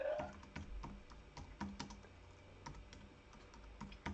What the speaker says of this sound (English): One hand typing, because the other hand's holding a speakerphone.